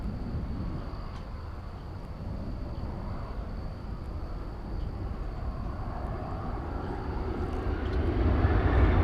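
A Boeing 737-800 takes off at DFW Airport, heard as a broad, distant engine roar that slowly builds in loudness, with a thin steady whine on top.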